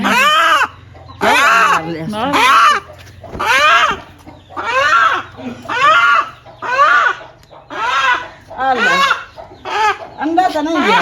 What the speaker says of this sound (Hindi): अभी जो है ना अम्मी जान उसको पकड़ रही हैं मुर्गी को ज़िबा करने के लिए।